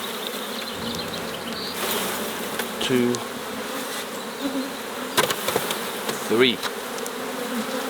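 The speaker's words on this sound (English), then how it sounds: "I'm going to shake some bees out of this." Honeybees shaken off a brood frame during spring hive work, a dense continuous buzzing swarm close by, with a few sharp knocks and bumps of the frame and a couple of brief spoken words.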